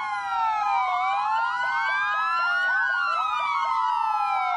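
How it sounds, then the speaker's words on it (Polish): Fire station sirens wail together in overlapping rising and falling tones, steady and moderately loud throughout, with no talk. "we wszystkich jednostkach Straży Pożarnej zawyły syreny."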